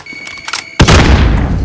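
A frag grenade explodes in Call of Duty Warzone, a sudden loud boom after a short stretch of quieter game noise, followed by a long rumbling, crackling tail.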